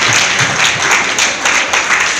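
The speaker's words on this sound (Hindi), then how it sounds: "तालियों की गड़गड़ाहट से इन सबका अभिवादन प्लीज करें" Loud, dense audience applause welcoming doctors at a free medical camp in an old-age home, steady crowd clapping filling the whole stretch.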